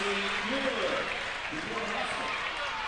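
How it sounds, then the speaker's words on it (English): Student section crowd cheering loudly at a girls high school basketball regional final, a steady roar of applause and voices filling the gym, with an announcer's voice faintly running underneath. "The Cardinal student section is happy, and they are cheering loud"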